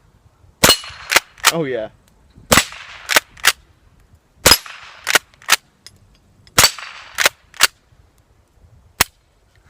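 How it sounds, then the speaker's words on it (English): A Rossi Model 62 .22 pump-action rifle fires into a hillside in sharp, fairly quiet cracks. The shots come in spaced groups of three or four, with a pump-action clack between some of them and a brief spoken remark. "I'm going to shoot around into the hill here and let you guys see just how quiet it is."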